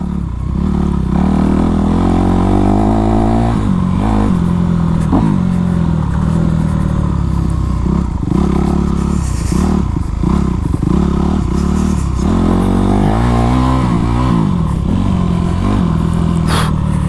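A Honda CRF450 dirt bike rides laps, its engine droning loudly and continuously with rising and falling revs, gear changes and throttle swells, plus wind and clattering across the whole stretch.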